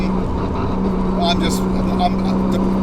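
A 1200bhp sequential Nissan Skyline R34 GTR engine runs steadily at a loud, constant idle drone close by, with faint voices over it.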